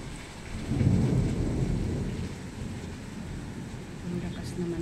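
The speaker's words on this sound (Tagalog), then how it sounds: "Ang lakas naman talaga ng biglang ulan." A thunderstorm with sudden heavy rain: steady dense rainfall hisses throughout while low thunder rumbles swell and fade, fairly close, with faint voices in the background.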